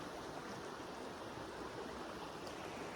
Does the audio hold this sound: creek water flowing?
yes